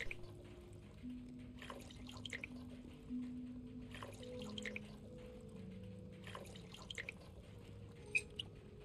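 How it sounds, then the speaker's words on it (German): Bubbling, dripping water in the horror video game Song of Horror, soft and intermittent drips and gurgles over a low droning ambient hum, fairly quiet throughout. "wo blubbert es jetzt hier?"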